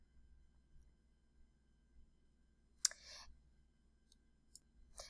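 A computer mouse clicks a few times while a logo design program is used, the sharp clicks coming close and quiet against near silence, with one small cluster of clicks and then a couple of isolated taps.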